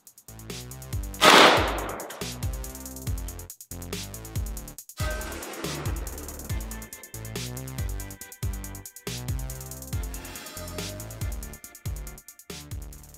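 Shots from a 16-inch AK firing Red Army Standard 124 grain rounds into Level III budget steel body armor, a sharp loud crack followed by a string of rapid reports and impacts, close and without speech.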